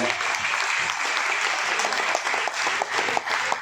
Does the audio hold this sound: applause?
yes